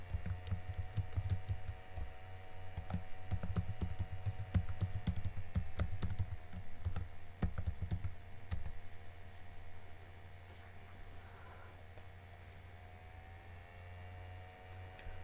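Password typed on a computer keyboard: a steady patter of small key clicks at close range over a constant low electrical hum, with the taps thinning out toward the end.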